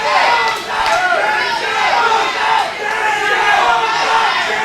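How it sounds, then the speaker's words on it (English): A large wrestling event crowd roars and screams continuously, loud and close, swelling and dipping in waves. "You can hear them screaming at the top of their lungs."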